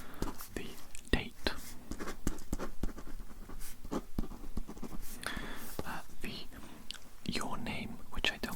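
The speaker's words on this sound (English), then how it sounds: "I'm going to be writing a few notes down myself" Handwritten notes are scratched out with a pen or pencil in close, intimate strokes and taps, while a soft whispering voice runs underneath.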